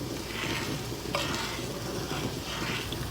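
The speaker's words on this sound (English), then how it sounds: "We're just going to keep stirring, stirring, stirring, stirring, so that it can thicken up." Thickening muscadine mixture is stirred steadily in a pot near a boil, a continuous close scraping and bubbling hiss with one brief clink of the spoon partway through.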